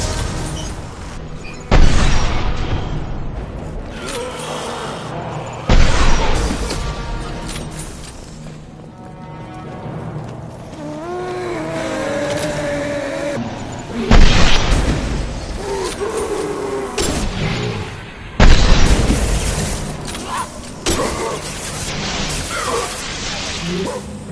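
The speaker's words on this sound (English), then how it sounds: "There are high-pressure tanks by the husks. Do you want me to blow them up?" High-pressure tanks blowing up near husks in Mass Effect 2, a series of four heavy booming blasts spaced several seconds apart, with rumbling tails and game sounds between.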